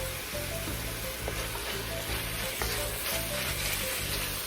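Tomato paste sizzles and fries steadily in a hot pan while braised short ribs are prepared, a continuous close crackle with faint stirring and no talking.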